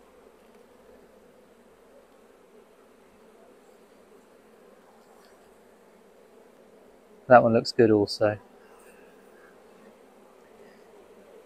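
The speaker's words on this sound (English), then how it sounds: "if I shake the bees anymore, we won't be able to even hear ourselves think" Honeybees from an opened hive during a hive split keep up a steady, low droning hum throughout, with a short burst of close speech over it partway through.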